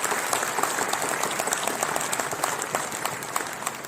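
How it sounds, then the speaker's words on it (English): Graduation ceremony audience at a college convocation applauding, dense sustained clapping from a large crowd, loud and steady for the whole stretch, fading slightly toward the end, no talk over it. "So a round of applause again."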